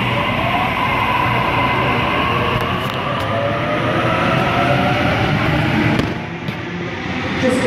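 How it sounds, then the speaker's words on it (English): A Sydney electric train pulls out of a platform at Cabramatta station, a loud, close, steady rolling rumble with rising motor whine and light rail clicks that eases slightly near the end. "Liverpool service now departing off platform"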